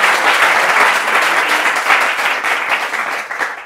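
Loud, dense applause from an audience fills the space continuously, a steady wash of many hands clapping at once with no voices standing out.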